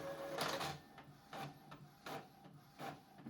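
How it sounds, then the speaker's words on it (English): An Epson WF-2910 inkjet printer copies a document, giving rhythmic mechanical whirs and paper-feed pulses repeating about every half second, faint and close with no talk. "You can see the printer is copying the document"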